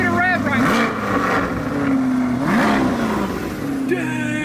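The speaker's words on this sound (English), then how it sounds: "Dude, give it a rev right" Stock-exhaust 2023 Corvette C8, rebuilt after a wreck, revs several times in a row, each blip rising and falling over a loud idle, while people talk.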